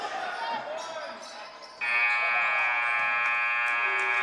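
A loud, sustained end-of-quarter electronic buzzer cuts in partway through and holds steadily to the end, sounding over crowd noise and a commentator's voice at a high school boys basketball game in a gym.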